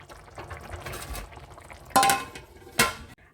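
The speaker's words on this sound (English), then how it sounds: "Let's put the lid back on." A metal lid is set back onto a pot of lamb stew with potatoes on the stove, giving two distinct clanks about a second apart over faint background kitchen noise.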